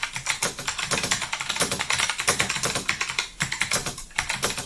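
Fast, steady typing on a Monterey K101 mechanical keyboard fitted with Blue Alps switches, a dense run of crisp, slightly high-pitched clicks close up with no pauses and no voices.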